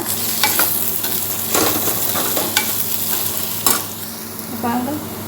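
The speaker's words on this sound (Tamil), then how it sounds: "தேவையான அளவு உப்பு போட்டுட்டு நல்லா கிண்டி விட்டுருங்க" Onions and potatoes frying in a pan while being stirred with salt, a constant sizzle broken by several sharp scraping strokes of the spoon against the pan, close and fairly loud.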